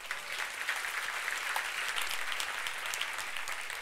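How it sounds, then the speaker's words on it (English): A conference audience at a Women In Tech event claps steadily, a dense even wash of applause from a crowd, sustained throughout with no speech. "I think you should give him an applause."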